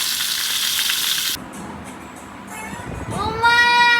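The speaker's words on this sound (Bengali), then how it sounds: "এখন এগুলোকে ভেজে নিব, হালকা হালকা করে ভেজে নেব, যেহেতু চিকেন রোস্ট করবো।" Chicken pieces hit hot oil in a pan with a loud, bright sizzle that drops off abruptly, then quieter frying continues beneath a voice that rises near the end.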